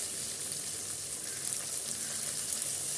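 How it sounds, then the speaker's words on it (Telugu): Tomatoes softening in a hot pan for pulao, with curry leaves in the mix, give off a steady, even sizzle and hiss that holds at a constant level throughout, close by and with no talking. "ఇంకా టమాటాలు వేసినాను, మగ్గుతున్నాయి."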